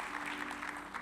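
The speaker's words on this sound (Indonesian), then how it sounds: "Berikan tepuk tangan yang paling meriah untuk Tuhan kita." A church congregation claps during a Sunday worship service, a brief, soft burst of scattered applause over a faint steady hum.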